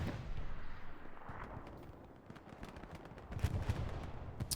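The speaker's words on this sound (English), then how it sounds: "I hear explosions" Distant booms and crackling gunfire from a World War II video game battle at Utah Beach rumble faintly, with irregular blasts and bursts scattered through a noisy background.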